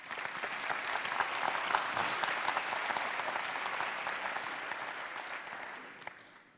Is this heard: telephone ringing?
no